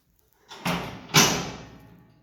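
Two loud metallic clanks ring out close by as the metal doors of an HDX 900 Prime cattle restraint cage slide and latch shut, each ringing briefly before fading.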